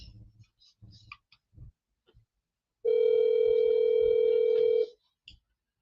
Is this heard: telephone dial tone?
yes